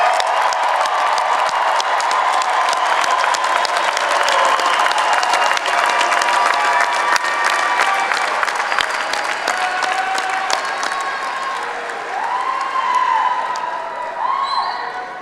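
An audience at a summer/fall commencement ceremony applauds the graduates, a loud, sustained roar of clapping with cheers and whoops rising through it.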